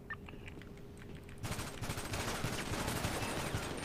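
Rapid automatic gunfire from a GTA 5 roleplay shootout during a bank heist breaks out suddenly partway through, a dense loud crackle of overlapping shots continuing to the end after a quieter start.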